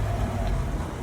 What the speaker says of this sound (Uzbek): Damas mashinamiz ketyapti